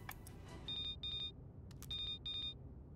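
A phone rings in the game 428 Shibuya Scramble with two pairs of short electronic trill bursts over a low background rumble and a few clicks.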